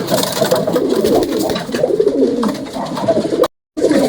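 Several pigeons coo close by in a steady, throaty murmur with soft rhythmic rolls and flutters, loud and continuous, broken only by a brief gap near the end.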